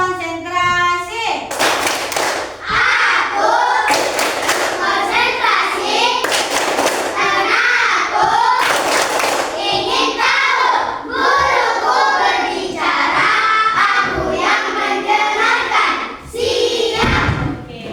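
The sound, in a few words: children doing the concentration clapping routine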